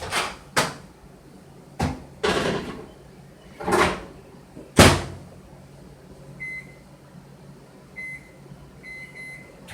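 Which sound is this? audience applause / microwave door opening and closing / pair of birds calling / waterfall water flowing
microwave door opening and closing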